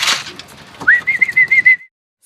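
A racing pigeon arriving at a derby loft gives a short run of warbling coos after a brief rustle, close and clear, then falls silent.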